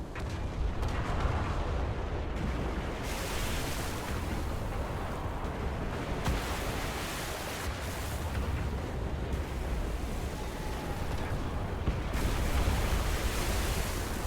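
Warships in the Foxhole naval battle fire their guns continuously, producing a dense, roaring wall of booming artillery and blasts with no clear gaps for about fourteen seconds.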